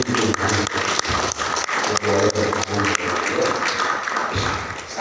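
An audience applauding at a religious talk, dense clapping and taps close by over several seconds, with a voice faintly underneath.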